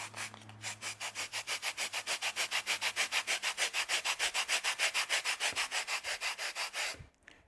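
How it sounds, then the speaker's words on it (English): Coarse side of a Perma-Grit sanding block rasping back and forth across polystyrene foam, a steady run of about thirty quick, rhythmic scraping strokes, close and clear, ending abruptly. "First of all, we're going to cut some polystyrene foam."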